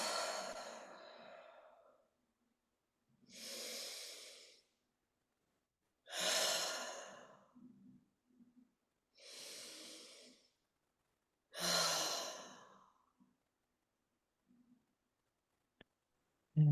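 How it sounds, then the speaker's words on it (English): Slow, deep breaths during a guided relaxation session: five long, soft inhale-exhale swells spaced by quiet pauses, close and calm, with no talking. "Let's take a few deeper breaths."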